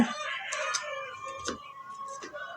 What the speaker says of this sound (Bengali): চারটি ফ্লোরেই পর্যাপ্ত পরিমাণ মুরগি রয়েছে